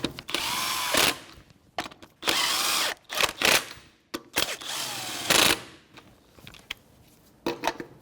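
A power tool snugs lug nuts onto a Nissan Frontier wheel in several short, loud whirring bursts separated by brief gaps, close by.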